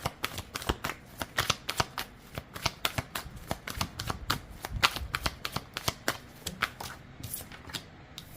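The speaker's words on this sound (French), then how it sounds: "Allez, une carte supplémentaire pour les Verseaux." Tarot cards shuffled by hand in rapid, crisp riffles and snaps that come thick and fast at an even rhythm throughout. The sound is close and carries no voices.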